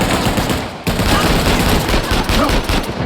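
Sustained automatic gunfire rattles loud and close in Uncharted: The Lost Legacy, a dense stream of rapid shots with a brief break near the start before the burst resumes.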